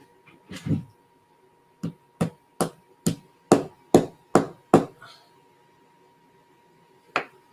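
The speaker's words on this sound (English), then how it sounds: "Hey, my little brass hammer." A small brass hammer taps a wooden inlay into place: about ten sharp, evenly spaced knocks, close and fairly loud, followed by one last stray tap.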